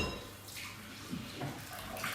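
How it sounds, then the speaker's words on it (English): Tap water runs steadily while a palette knife is rinsed in a kitchen during pancake making, a continuous close splashing hiss with slight shifts as the blade moves through the stream, no speech. "I'll use that for my quick wash of the palette knife"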